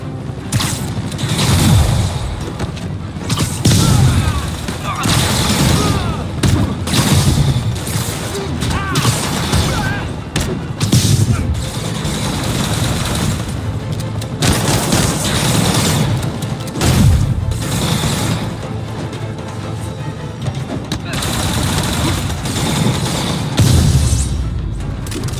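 Booming explosions and bursts of gunfire from a Marvel's Spider-Man video game battle, with an armored APC under attack in the city, loud and continuous throughout with occasional voices underneath.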